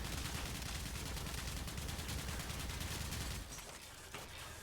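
A gun in the video game Warframe fires a loud, dense stream of rapid automatic shots that runs unbroken for about three and a half seconds, then drops to a quieter, sparser rattle.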